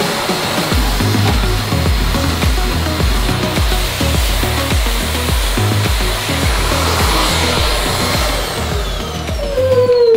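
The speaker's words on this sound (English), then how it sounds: "Got my brush device on here, so this brush helps us get in there and clean those coils up." Vacuum cleaner with a brush attachment cleaning refrigerator coils, a loud steady close-up roar with rhythmic scrubbing pulses as the brush works back and forth.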